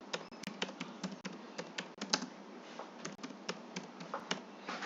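Code being typed on a computer keyboard: a steady run of close, crisp key clicks at irregular rhythm, with no talking.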